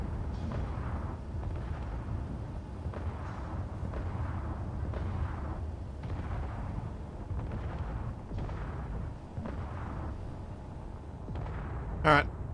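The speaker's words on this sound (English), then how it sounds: "I hear a lot of things hitting the ground that sound like rockets." Rockets hitting the ground in a video game: a steady run of dull, rumbling booms at a distance, one every second or so, under ongoing talk, ending with a sharper close crack.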